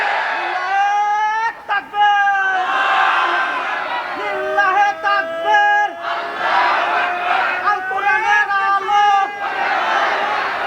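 A large crowd at a religious gathering loudly chants the Nara-e-Takbir slogan in unison, voices rising in repeated sustained call-and-response bursts with brief gaps between them.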